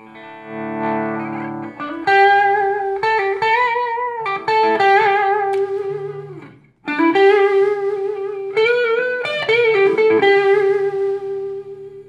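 Clean electric guitar plays bright picked notes and short melodic phrases with a shimmering chorus effect, pausing briefly midway.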